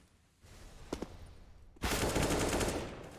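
Gunfire sounds from a Counter-Strike video game match, with a couple of quick shots and then a sustained burst of rapid automatic fire. The shooting sounds fairly close and runs steady to the end.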